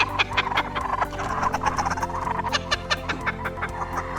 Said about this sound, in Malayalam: ലാഫിംഗ് കുക്കുംബ്ര എന്ന ഈ പക്ഷിയുടെ സൗണ്ട് ആകട്ടെ